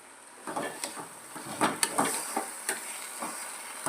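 Green chilli and gongura chutney being stirred in a pan, a series of irregular scraping strokes over a soft steady sizzle, close and clear with no talking.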